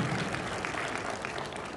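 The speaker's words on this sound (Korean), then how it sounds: "다시 한번 큰 박수를 부탁드립니다." Faint, steady applause from a crowd at a clan association's annual general meeting, a short burst of clapping heard from a distance with no talking.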